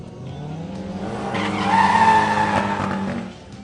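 Turbocharged VW Fox and turbocharged Fiat Uno launch side by side at a drag strip, engines building to a loud, sustained roar with tire squeal peaking mid-run, then easing off slightly toward the end.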